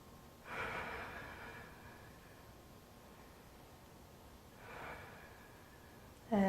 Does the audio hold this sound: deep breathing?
yes